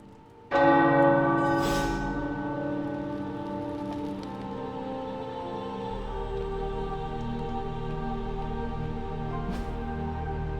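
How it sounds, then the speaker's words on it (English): A tower bell in Marvel Midnight Suns strikes once, loud and close, its rich ringing tone slowly fading over about ten seconds against a soft, steady patter like rain. "Tower Bell."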